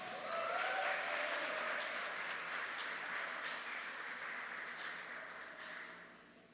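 An audience claps for a speaker at a seminar on gender diversity in basic education. The applause is sustained and fairly even, then tapers slightly toward the end.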